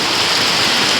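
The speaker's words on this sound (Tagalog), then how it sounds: "Ayan na sa loob ng bahay" Floodwater pours into a house with a loud, continuous rushing and splashing roar. It is dense and close, and no voices are heard.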